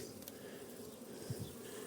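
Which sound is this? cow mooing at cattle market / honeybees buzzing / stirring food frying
honeybees buzzing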